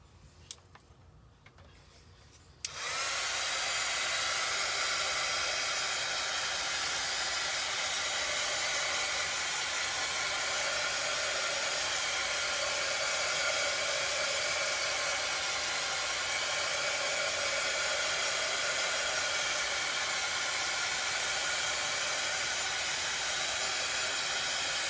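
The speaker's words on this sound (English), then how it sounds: "I'm gonna grab my heat tool and I'm gonna start getting both of these" A heat tool blows hot air steadily to dry Dollar Tree craft pieces for a Valentine XOXO project, a loud continuous roaring hiss that starts abruptly after a short quiet moment and runs unbroken to the end.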